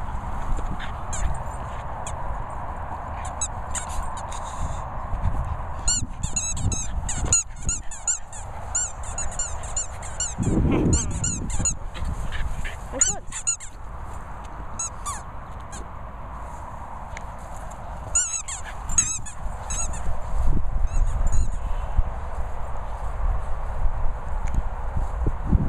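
A Border Terrier works a squeaky toy, producing repeated honking squeaks in irregular bursts, fairly close, with brief quiet gaps and some light rustling between them.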